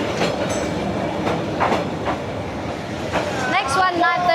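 A long train of about eleven carriages rolls past on Hanoi's train street with steady rumbling and rhythmic clacking, a squeal rising near the end, as people talk in the background.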